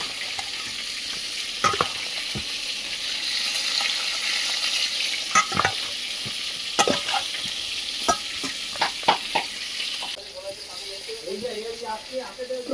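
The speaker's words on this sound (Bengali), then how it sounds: "মাছ ভাজতেই লাগে কত টাইম।" Fish sizzles in hot oil in a pan, a continuous frying hiss broken by sharp pops and spatula scrapes, close up, with someone talking briefly near the end.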